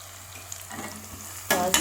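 Turmeric fries with onions in a pan, a quiet low sizzle with light scraping stirs, then two sharp, loud bursts of hissing near the end.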